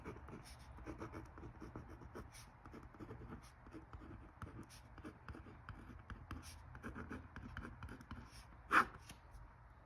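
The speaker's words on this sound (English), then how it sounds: "I'm going to zoom you in and write this very, very clearly." A pen writes in a Sterling Ink N1 vertical planner, making soft, continuous scratchy strokes. The sound is quiet and close, with one brief louder tap near the end.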